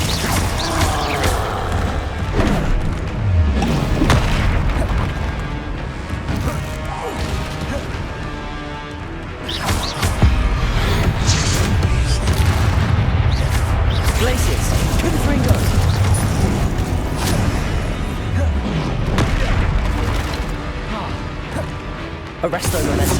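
Rapid spell impacts from Confringo and Glacius in the Hogwarts Legacy video game, crashing and whooshing blasts layered over dense combat effects and background music, continuous and loud throughout, with battle voices mixed in.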